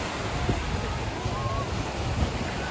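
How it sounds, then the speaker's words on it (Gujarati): Sea waves break on a crowded shore, a dense continuous roar of surf mixed with heavy wind rumble on the microphone, steady throughout without clear separate breakers. "જો અહીંયા પાણીના મોજા કેટલા આવે છે"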